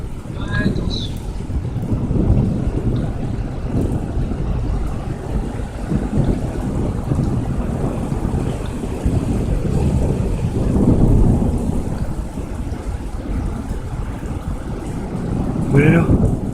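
A strong thunderstorm with heavy rain and frequent lightning over Amiens, a dense continuous roar of downpour and rumbling with wind buffeting the microphone, swelling in a few loud surges.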